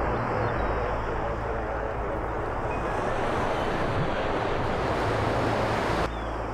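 Surf rolls in at a beach as a dense, constant wash of breaking waves, broad and fairly loud, with wind buffeting the microphone and no distinct voices.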